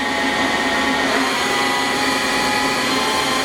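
The spindle of an SNK SUT-50 CNC turning center runs at 500 RPM, giving a loud, steady mechanical whir with a constant tonal hum and broadband hiss, unbroken and close throughout.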